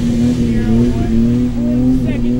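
An off-road vehicle entry rolls past in a Veterans Day parade with a steady, loud engine drone and a sustained low hum, heard up close for a couple of seconds.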